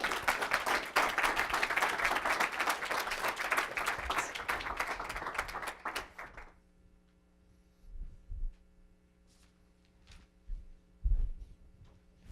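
An audience claps after a training session: a steady round of applause for about six seconds, then it stops abruptly, leaving a quiet hum with a few faint thumps.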